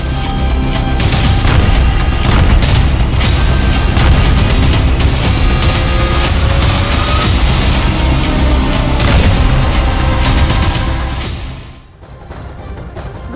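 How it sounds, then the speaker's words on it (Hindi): Israeli artillery shelling in Gaza makes a dense, loud, continuous rumble of heavy booms and crashing blasts that fills most of the stretch, then briefly drops away before resuming, with no talk. "गाजा पर इसराइल अभी तोप से हमला कर रहा है।"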